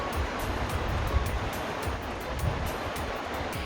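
Cold river on the Tajikistan–Afghanistan border flowing steadily, a continuous broadband rush of water with low rumbling buffets, close and fairly loud, no talk.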